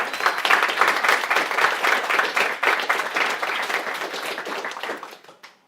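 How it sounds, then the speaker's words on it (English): An audience applauds a speaker at a Transhumanism Australia talk, with dense, steady clapping that holds for about five seconds before tapering off. "A round of applause first for Elise."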